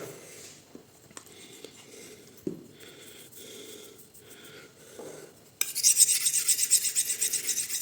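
Knife blade rasping back and forth on a 3700-grit whetstone, close scraping strokes in an irregular rhythm that build into a louder, faster grinding run toward the end.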